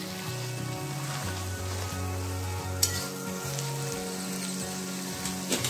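Cooked potato and vegetables for pav bhaji sauté in a hot pan with a steady, even sizzle as they are stirred, a single sharp utensil clink standing out, with soft background music running underneath.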